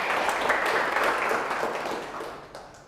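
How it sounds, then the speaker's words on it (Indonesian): A university class claps together for everyone, a brief burst of many hands applauding fairly loud and steady, then gradually thinning out toward the end. "Kita tepuk tangan dulu untuk semuanya."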